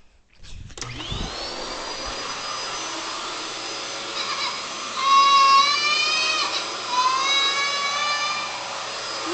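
Household vacuum cleaner starting up and running loudly nearby, a steady roaring hiss topped by a high whine that wavers as it moves, with faint higher cries under the drone.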